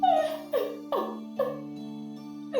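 A dog whimpers and yips in a series of five rising-then-falling cries spaced about half a second apart, close and fairly loud over a steady low hum.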